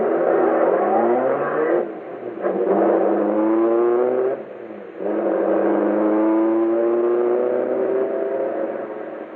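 A 1930s gangster getaway car pulls away toward a vault, its engine revving loud and close in rising surges, with brief dips between gear changes.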